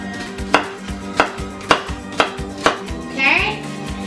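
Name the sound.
child chopping carrot with knife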